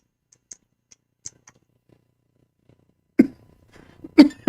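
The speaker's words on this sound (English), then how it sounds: "Took a sip of water and now coughing everywhere." Two short, sharp coughs burst out near the end, after a stretch of faint clicks and near silence.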